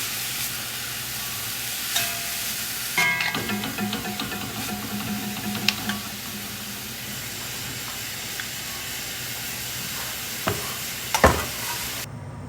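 Frozen vegetables cook and wilt in a pan, hissing and sizzling steadily with steam while a utensil clanks and scrapes now and then, the clinks sharpest toward the end.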